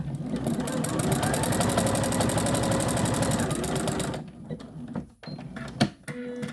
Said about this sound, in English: just do a zigzag stitch all the way around